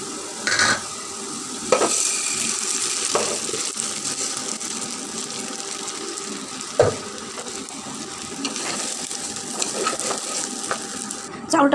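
Rice frying in a pot with onion, cardamom, cinnamon and bay leaf for pulao, heard as a quiet sizzle with repeated scraping and stirring clinks of a spoon against the pot.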